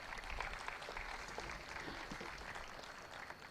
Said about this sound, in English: Let us have a big round of applause for Miss Amulya and Shri Shubham.